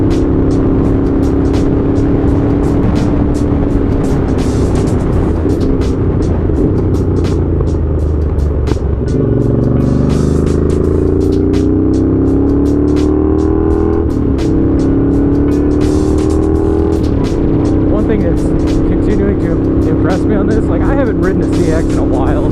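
A Honda GL650 CX motorcycle being ridden on a shakedown run after a build, its engine droning loud and steady with rising and falling pitch through smooth gear shifts, under constant wind rush and a voice talking.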